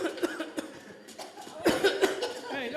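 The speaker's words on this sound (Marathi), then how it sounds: "खोकला काही जात नाही." Repeated coughing in a hospital comedy skit: a string of short, harsh coughs of varying strength, with faint chuckling in the background.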